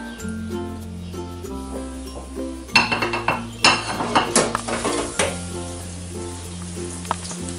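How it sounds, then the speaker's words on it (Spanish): Floured eggplant slices frying in hot olive oil, with clinks and scrapes of utensils against the pan over a steady sizzle and a sustained background music bed, busier in the middle. "vamos a freírla con aceite de oliva"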